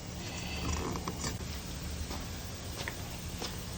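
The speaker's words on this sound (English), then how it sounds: "I got a vice grip on the back of the shaft, and now I can tighten this" Pool pump impeller being tightened by hand while a vice grip holds the back of the motor shaft: close, steady mechanical creaks and small ratchet-like ticks over a dense, noisy background.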